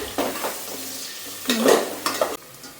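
Onions fry in hot oil for chicken biryani, a continuous sizzle broken by several scraping stirs of a spatula against the pan, close up with no voices.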